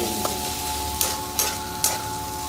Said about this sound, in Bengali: আর খুব ভালো করে কষিয়ে নেব